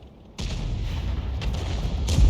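A T92 HMC self-propelled artillery gun fires in World of Tanks, a single sudden deep boom followed by a long rumbling roll, then a second muffled thump near the end.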